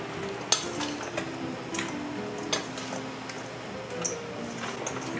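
Seasoned goat meat being mixed for Trinidadian curry goat, giving wet squishing and stirring sounds with a few sharp clicks against a bowl, close and steady.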